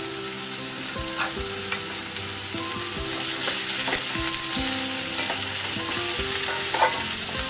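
Finely chopped garlic, about fifteen cloves, sizzling steadily in hot oil in a frying pan for tomato kurma, with a spoon scraping and stirring at irregular intervals, close and continuous.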